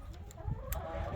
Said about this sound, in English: The rooster right there.